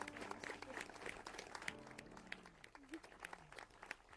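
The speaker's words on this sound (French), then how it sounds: "sous vos applaudissements" Scattered clapping from a modest audience, fairly quiet and uneven, with faint voices murmuring underneath.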